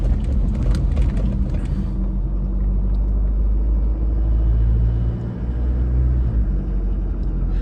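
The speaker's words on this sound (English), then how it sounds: "There's a truck coming down the road." A truck rolls past on a country road, a loud, low rumbling drone that swells and then eases as it passes close by the car.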